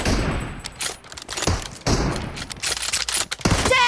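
Rapid bursts of automatic gunfire from PUBG Mobile rattle in clusters with short gaps, loud and close, with no clear talk over them.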